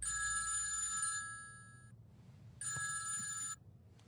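A telephone rings in a movie scene: two bright electronic ringing bursts with a short silent gap between them, loud and near against a faint background.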